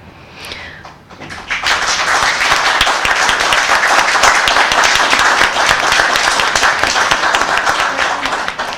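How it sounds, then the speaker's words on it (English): Audience at a Biscayne Park regular commission meeting bursts into loud, sustained clapping after a brief quiet start, many hands applauding steadily and close for several seconds. "I'm not going to stop you from clapping."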